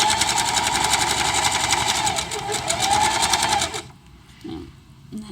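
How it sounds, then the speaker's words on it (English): A sewing machine stitches a fabric seam in a fast, even mechanical whir lasting a few seconds before stopping, with a voice speaking nearby. "So we're going to lower our needle in the fabric. We're going to lower the presser foot."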